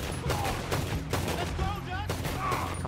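Pistol fire in the Red Dead Redemption 2 video game during a tram shootout, several sharp shots spread across a busy battle mix with other gunfire and a voice speaking over it.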